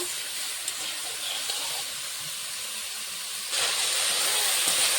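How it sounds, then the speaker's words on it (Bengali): Potato, pointed gourd and eggplant frying in a pan, a continuous close hiss of oil that grows louder and brighter partway through, with no talk. "সবজিটা ভাজা হচ্ছে, ভালো করে ভেজে নেব।"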